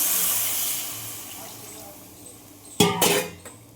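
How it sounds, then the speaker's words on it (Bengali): Water is poured into a hot cooking pot of spiced masala, producing a broad sizzling hiss that slowly fades, then a couple of sharp metallic clanks from the pot near the end. "তো আমি জল দিচ্ছি"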